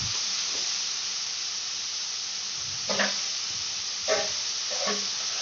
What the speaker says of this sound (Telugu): పచ్చి వాసన పోయేటట్టు మంచిగా ఫ్రై చేసుకోవాలి అటు ఇటు మంచిగా స్పూన్తో అటు ఇటు మంచిగా కలుపుకోవాలి